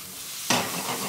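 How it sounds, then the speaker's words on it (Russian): Tomatoes tipped into a pan of cooking vegetables and stirred, a sudden burst of sizzle and scraping after a quiet moment that keeps hissing close up. "Теперь в овощи добавляем помидоры. Все перемешиваем"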